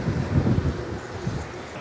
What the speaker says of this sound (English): Windier here